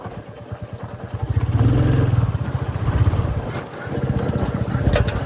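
A Royal Enfield Bullet 350 Battalion Black motorcycle rides a dirt hill road, its thumping single-cylinder engine loud and close with a steady pulsing beat that rises and dips with throttle, plus light clatter.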